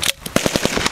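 An M203 grenade launcher fires on an outdoor practice range, giving sharp bursts of loud, close impacts in quick succession across the moment of the first shot.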